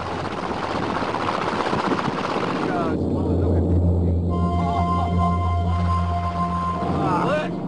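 B-25 bomber returning to land, its engine drone a steady low hum with a strong tonal band through most of the stretch, sitting under an overlapping voice and other broadband noise.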